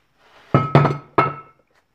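Three heavy ball peen hammer blows ring out against a ball joint taper on a Jeep Cherokee, two in quick succession and then a third, each a sharp metallic clank with a short ringing decay, close and loud in an otherwise quiet workshop.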